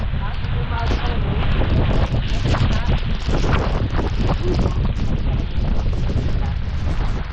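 Strong typhoon wind roars and buffets the microphone in a dense, continuous rush during Typhoon Aghon in the Philippines, with people talking faintly beneath the gusts.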